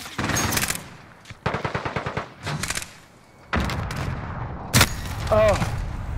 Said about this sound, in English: Enemy sentry gun active.